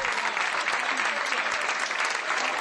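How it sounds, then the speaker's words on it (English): A crowd gives a standing ovation at a surprise homecoming for a returning soldier, a dense, steady roar of clapping heard close and continuous throughout. "The crowd gave this surprise reunion a standing ovation."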